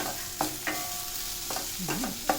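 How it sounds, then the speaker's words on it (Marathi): Ginger, green chili and spices being dry-roasted in a pan, with a few sharp scraping stirs over a faint, steady background hiss; no voices. "सगळं आता भाजून घेऊया छान व्यवस्थित"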